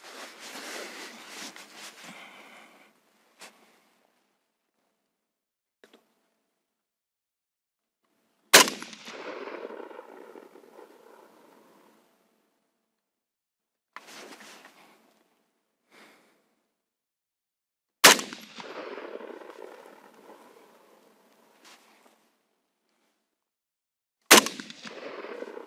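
Four rifle shots from a Saiga-308 carbine with a 555 mm barrel, fired at a range target, each a loud sharp crack with a ringing tail, spaced several seconds apart with a few quiet clicks between.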